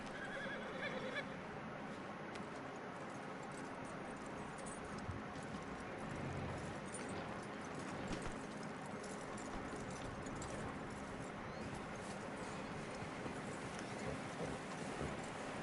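A horse in the video game Red Dead Redemption 2 whinnies while hooves clop steadily through a continuous, busy background of ambient noise.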